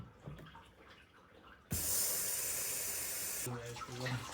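Water rushes loudly through a car's flushed cooling system for a couple of seconds, cutting in abruptly after a quieter stretch with faint voices, then giving way to a brief tonal hum and talk.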